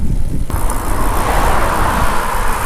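Road traffic on a street beside a cycle lane, with cars rushing past in a steady, fairly loud broadband wash that swells and continues throughout, with no voices over it.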